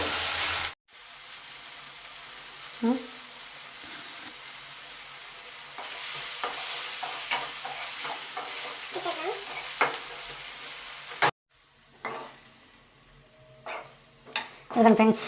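Onion, tomato and green chillies frying in a pan for egg masala curry, a steady close sizzle with spatula stirring scrapes, interrupted by brief cuts and a voice speaking near the end.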